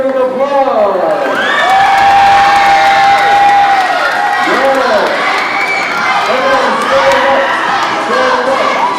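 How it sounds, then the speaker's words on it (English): Children cheer, shout and clap loudly at a Bible quiz competition between rounds, a boisterous crowd of young voices with rising whoops and yells over scattered applause, filling the whole stretch. "Everybody give them applause."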